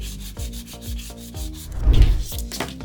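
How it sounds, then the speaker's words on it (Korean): Sandpaper rubs back and forth over a 3D pen plastic sword model in a steady run of rasping strokes, close and fairly loud, with one heavier, scrubbing burst near the end and no talking. "그가 사포도 이용하면 더 깨끗하게 할 수 있습니다"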